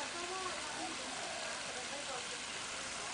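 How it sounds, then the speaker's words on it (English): Garden waterfall near a house, a steady, soft wash of flowing water heard from a short distance, faint and continuous, with no voices. "And the waterfall."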